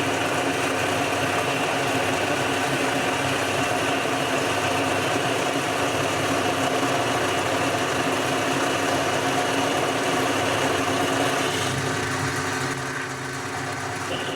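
A lathe turns down a half-inch mild steel bar to a smaller diameter, giving a steady, loud machine drone with a continuous high whine that holds evenly and eases off slightly near the end.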